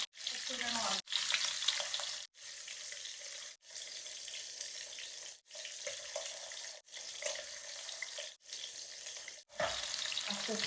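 Pieces of hilsa fish tail frying in a pan, a steady crackling sizzle broken by repeated short gaps, close and fairly quiet with no talking.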